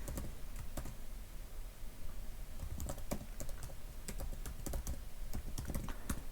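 Close, quiet keyboard typing as a username and password are entered into an app, with irregular bursts of key clicks and short pauses between them, no voices.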